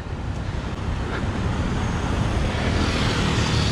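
A cattle-laden lorry rolls past in heavy traffic on a circumferential road in Bacolod, Philippines; loud, close engine rumble and tyre roar swell steadily over constant roadway noise, with no voices.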